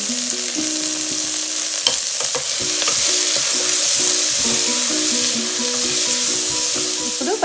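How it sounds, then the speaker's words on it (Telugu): Onions sizzle in hot oil with curry leaves, turmeric and salt, a steady loud frying hiss broken by repeated scraping clinks of a spoon stirring the pan. "దీనిలో కొద్దిగా కరివేపాకు, పసుపు, కొద్దిగా ఉప్పు వేసుకొని ఆనియన్ వేసుకోవాలి."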